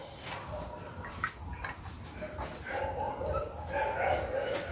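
Dogs bark and yip in the background while people talk, the barking scattered and somewhat distant.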